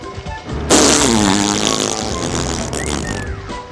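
A loud, sustained raspy burst with a wavering, bubbling texture that starts abruptly and carries on for about three seconds before trailing off, sounding like a fart or a voice imitating one in a gaming session.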